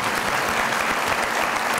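A television comedy studio audience applauds for Shah Mahmood Qureshi, a brief, dense burst of clapping from a crowd, loud and continuous without any break.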